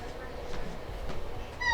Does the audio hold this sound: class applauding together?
no